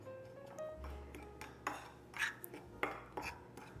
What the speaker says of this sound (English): We're just gonna kind of stir that together a little bit.